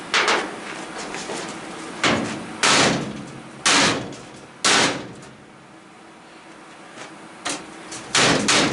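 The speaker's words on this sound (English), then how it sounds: "Sometimes the best tool is the hammer." Heavy hammer blows strike the metal cabinet of an electric dryer being scrapped, about seven loud, sharp bangs at irregular intervals, each ringing briefly before fading, with no talk over them.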